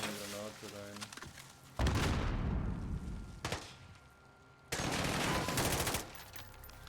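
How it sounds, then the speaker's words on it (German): A grenade blast and gunfire in the Call of Duty Modern Warfare (2019) campaign: a voice is followed by a loud, broad explosion that rumbles away, a sharp shot, then another burst of heavy fire. "Da ist einfach mal eine Granate rein."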